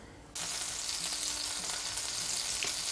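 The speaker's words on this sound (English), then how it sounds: "the key to cooking excellent pancakes is to start with a hot pan and a well buttered pan" Pancakes sizzle in a hot, well-buttered pan, the frying hiss starting abruptly after a quiet moment and continuing evenly, close and moderately soft.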